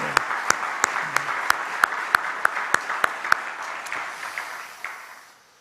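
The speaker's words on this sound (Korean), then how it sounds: "우리 글로리아 중창단, 우리 이용일 우리 단장님과 우리 단원들을 위해서 한번 박수 한번 드리면 어떨까요?" A church congregation claps for the Gloria vocal ensemble and its leader during a prayer service, a sparse round of sharp, distinct hand claps that thins out and fades toward the end.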